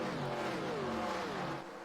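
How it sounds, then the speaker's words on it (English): Race cars in the iRacing sim pass by with a steady, loud engine drone, pitch gliding downward as they move away. "I also like the sound of these cars."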